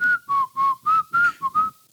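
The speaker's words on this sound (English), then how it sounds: "There's just something creepy about whistling." Someone whistles a short, clear melody of about seven separate notes, close by, with no other sounds around it.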